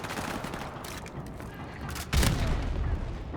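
A grenade blast and rapid gunfire in Call of Duty Modern Warfare crack out in a dense, continuous barrage, with a heavier boom landing partway through and shots carrying on after it.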